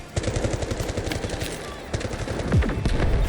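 Rapid automatic fire from an SG552 rifle in the shooter game Delta Force, a stream of sharp, evenly spaced shots in bursts with brief gaps, loud and close.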